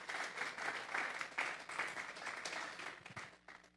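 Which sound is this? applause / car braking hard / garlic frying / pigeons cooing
applause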